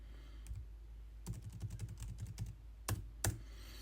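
Quiet keystrokes tapped on a computer keyboard while entering C++ code, arriving in short irregular bursts with brief pauses between groups of clicks and two slightly firmer taps near the end.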